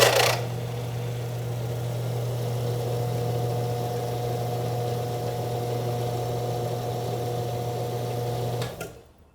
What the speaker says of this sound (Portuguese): Eu vou ligar o motor e a gente vai ver então que assim que o alternador ganha rotação